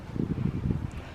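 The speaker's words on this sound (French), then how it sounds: "il y a un petit peu de vent aujourd'hui" A light outdoor wind buffets the microphone in uneven low gusts, producing a steady rumbling rush with no talking.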